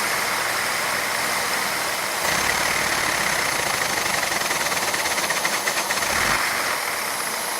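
A LEGO inline two-cylinder vacuum engine runs steadily under load with torque applied to its crankshaft, giving a continuous mechanical whir and rattle that swells slightly partway through and stays close and fairly loud throughout.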